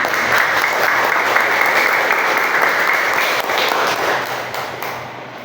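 A classroom full of students claps together for a group about to present, a loud, dense wash of applause that holds steady and then fades slightly near the end.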